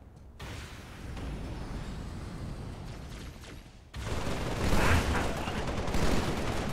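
Sustained gunfire from the video game Halo: Spartan Strike, a dense rattling fusillade of shots that grows louder and heavier after a brief lull, with no talk over it.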